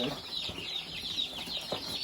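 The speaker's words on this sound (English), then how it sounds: "There's 2 more turkeys, Louie." Young turkeys and chicks on a homestead give continuous high, thin peeping and cheeping, close and fairly busy, with soft handling noises and faint low voices in the background.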